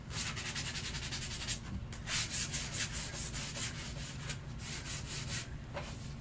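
Steady, continuous rasping of sandpaper worked back and forth over a wooden Soldier 76 costume prop, close and unbroken for several seconds with no voices.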